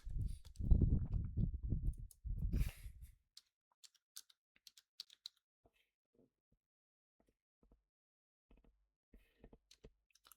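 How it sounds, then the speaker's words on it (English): Typing on a computer keyboard, faint scattered key clicks in irregular bursts following a stretch of close speech at the start, then quiet gaps between taps. "I'm typing it for you guys."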